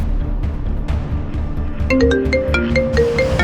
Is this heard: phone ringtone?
yes